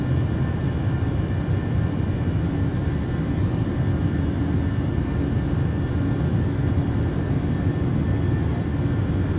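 Steady, loud airplane engine drone during a climb in Microsoft Flight Simulator on a Montreal to Toronto flight, a continuous broadband roar with no talk over it.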